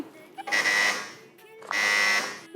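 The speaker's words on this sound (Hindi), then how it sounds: "आपने पहले बजर दबाया" A quiz buzzer on a children's Eid special game show sounds twice, two loud, harsh electronic buzzes each lasting about half a second with a short pause between, close and clear, with faint voices around them.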